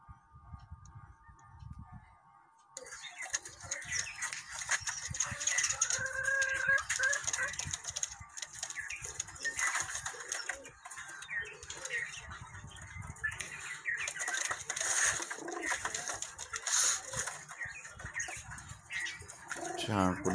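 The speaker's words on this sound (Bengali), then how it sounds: "আর অনেক জাতের কবুতর আছে" Many breeds of pigeons, including Kaldom, coo and rustle inside a loft, a continuous mix of close cooing and bird noise with ticking sounds and faint voices in the background.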